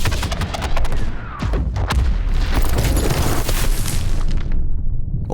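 Twin-rotor helicopter blowing up in a first-person shooter video game: a loud booming blast with crackling gunfire-like bursts, dense and close, then fading debris rumble.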